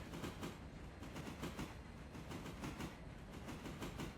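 Passenger train rolling on rails in the game Railroader, a steady rumble with a rhythmic clickety-clack of wheels over rail joints, continuous and fairly close, with no talking.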